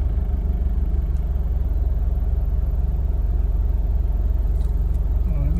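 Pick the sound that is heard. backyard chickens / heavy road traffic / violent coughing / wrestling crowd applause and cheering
heavy road traffic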